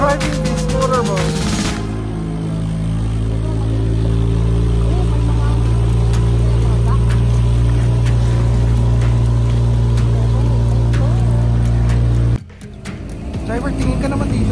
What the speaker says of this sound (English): She's so good driving this motorboat.